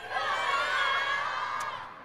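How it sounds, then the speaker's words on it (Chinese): A crowd of fans at a Burberry makeup launch event yells Song Wei Long's name together in one loud, sustained unison shout lasting about two seconds before trailing off. "希望现场的粉丝一会儿能够大声地喊他的名字好吗"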